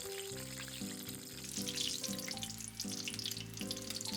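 Eggplant pieces frying in hot oil for agedashi, a steady crackling sizzle running throughout with faint clinks and background hum, close and fairly quiet, no one talking.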